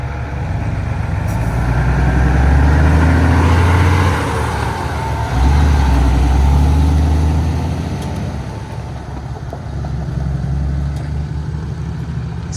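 A Peterbilt truck pulling away on a Missouri farm, its diesel engine rumbling loud and close as it revs up through two gear pulls, then fading slightly as it moves off.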